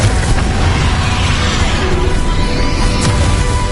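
A fiery blasting spell explodes in the Hogwarts Legacy video game, a dense, loud rumbling boom with crackling debris that stays sustained and close throughout, with no lull.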